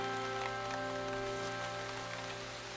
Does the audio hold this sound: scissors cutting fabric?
no